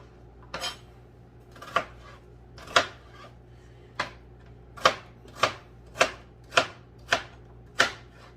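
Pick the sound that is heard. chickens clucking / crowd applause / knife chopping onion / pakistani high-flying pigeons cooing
knife chopping onion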